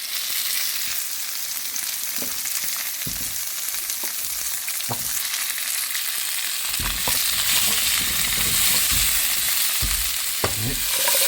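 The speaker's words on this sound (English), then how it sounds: "let's saute this one, and we're gonna add our remaining ingredients." Chicken and squash sautéing in a pan for a creamy Filipino coconut chicken and squash dish: a steady, bright sizzle throughout, broken by scattered scrapes and stirring knocks, with no talk.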